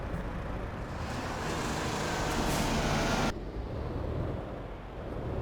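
A truck engine in American Truck Simulator drones loud and steady, with a broadband roar that cuts off abruptly partway through and then settles into a lower, quieter rumble.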